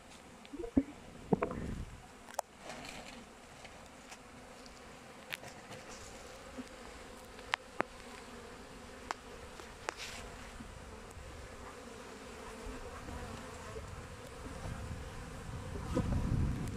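Honeybees buzz steadily around open hives during a spring inspection in fine weather, with a close, continuous hum, light wind on the microphone, and occasional clicks and knocks from handling the hive frames.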